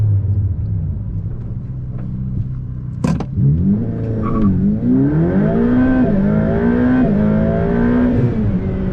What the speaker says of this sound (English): All right, so I'm just gonna do a quick little acceleration right here.